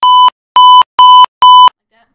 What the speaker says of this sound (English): You can add the beeps.